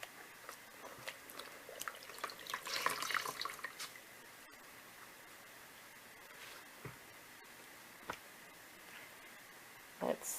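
Cross-stitch embroidery being rinsed in water at a sink, with soft splashing, sloshing and dripping sounds that are busiest early on and then settle into scattered drips and small splashes, close by with no talking.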